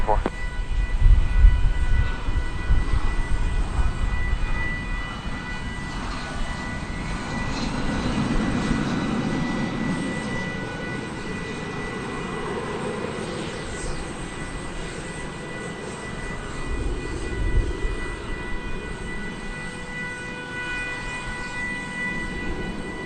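An Envoy airliner takes off from runway 18 left at DFW Airport, a broad engine rumble that swells and lingers for the whole stretch while radio voices talk over it.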